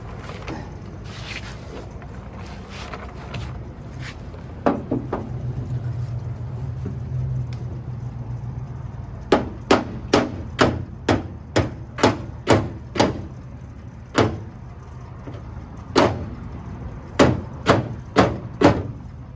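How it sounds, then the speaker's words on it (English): Dents in an aluminum fishing boat hull are hammered out with loud, ringing metallic blows. A few scattered strikes come first, then a steady run of about a dozen evenly spaced hits, close up over a low background rumble. "we're gonna do a little bit of aluminum body work here"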